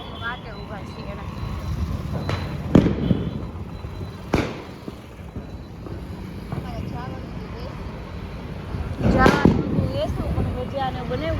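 Firecrackers bursting outdoors at a celebration of Lord Ram's arrival, several sharp loud bangs spaced seconds apart with a crackling cluster near the end, over background chatter and a passing vehicle.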